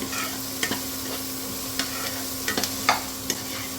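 Turmeric cooks in a pan for a village-style drumstick pithla, giving a steady soft sizzle broken by sharp scraping strokes of a spoon stirring.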